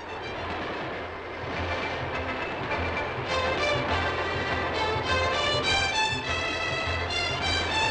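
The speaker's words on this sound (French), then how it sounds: "notre train a maintenant atteint sa vitesse de marche," The Le Mistral express runs at speed on rails, about 140 km/h in 1956, giving a steady loud rolling rumble with faint rhythmic clatter and high metallic whining tones that rise midway.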